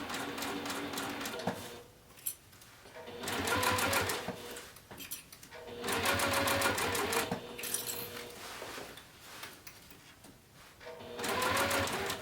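A domestic sewing machine stitches a tote bag seam in short bursts, its rapid mechanical chatter starting and stopping several times with brief quiet pauses between runs as the fabric is adjusted.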